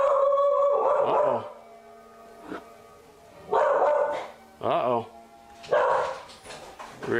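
A dog howls and barks in several drawn-out bursts with short yips between them, loud and near, while a person talks over it in between.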